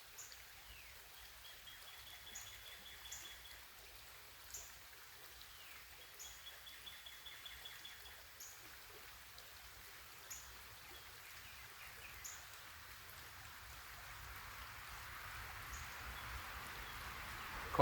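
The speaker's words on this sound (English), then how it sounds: "The creek behind me." Soft, steady trickle of a flowing creek with faint bird chirps scattered throughout, building gradually louder toward the end.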